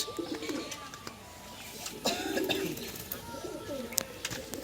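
Pigeons coo repeatedly in a loft, low throaty calls close by with a few chirps mixed in, over a soft background murmur.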